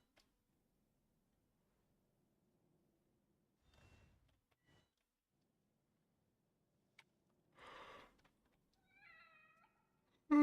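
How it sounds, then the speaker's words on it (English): A cat meows in The Evil Within horror game: a couple of short, close meows near the end, after a few scattered thuds and a brief rustle in otherwise near-silence. "Cat."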